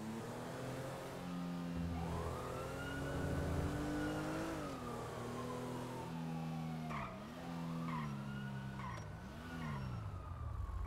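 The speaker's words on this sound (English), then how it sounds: "I heard the rev on that engine." A car engine revs and shifts pitch repeatedly, rising and falling with tire squeals, loud and continuous, in the video game GTA 5.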